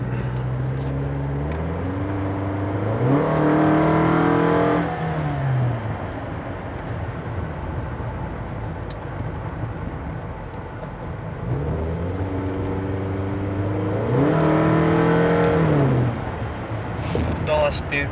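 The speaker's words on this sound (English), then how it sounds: "This is what it sounds in the car when the windows are closed." A 2007 Toyota Camry with a custom Vibrant exhaust, heard from inside the cabin with the windows closed, gives a muffled, steady drone with two rising rev sweeps, one early and one later, over a constant low rumble.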